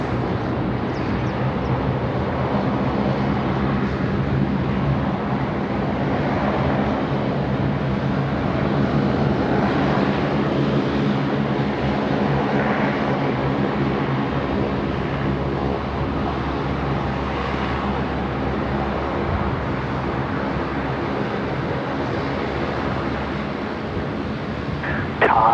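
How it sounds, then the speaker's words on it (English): An airliner takes off from runway 16 right at Sydney Airport with a continuous broad jet roar that holds steady and fairly loud for the whole stretch, heard from a distance in the open air. "Star 952, runway 16 right, clear immediate takeoff"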